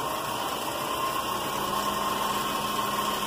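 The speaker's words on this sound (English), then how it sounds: "then I'll turn the lathe on to about 2000 RPM" A wood lathe running at about 2000 RPM while a pinecone cosmic cloud pen blank is buffed, producing a steady, close, droning hum with a constant whine and no speech.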